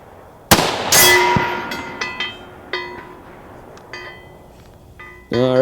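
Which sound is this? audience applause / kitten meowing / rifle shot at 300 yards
rifle shot at 300 yards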